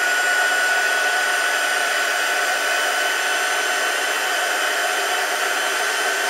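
A hair dryer blows steadily on a craft butterfly, a loud continuous whine and rush of air held close throughout with no break.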